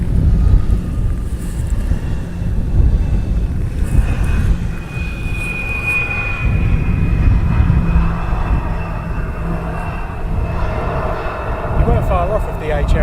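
An airplane touches down at Amsterdam Schiphol Airport, its engines a broad, steady roar with a thin rising whine, heard from a distance through wind buffeting the microphone, with people talking over it.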